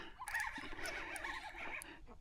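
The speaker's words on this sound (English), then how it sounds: "Birds are back, guys." Birds call repeatedly near a saltwater fishing spot, a busy chorus of squawks fairly close but soft overall, with no talking.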